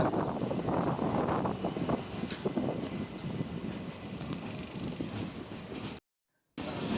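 Steady rumbling and rattling of a moving express train, with broadband wind-like noise, heard from inside an LHB coach; the sound cuts out briefly near the end.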